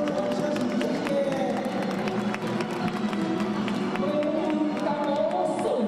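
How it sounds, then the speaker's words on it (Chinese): Audience applause fills a ceremony for an air rescue service helicopter's new livery ribbon-cutting and flood-control drill: a steady, dense wash of clapping with crowd noise, loud and continuous throughout. "热烈的掌声"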